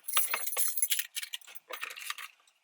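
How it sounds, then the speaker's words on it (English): Car and house keys set down into a Toyota RAV4 center console tray, a close bright metallic jangle in several quick bursts of clinking over about two and a half seconds. "You can put your car keys or home keys in there"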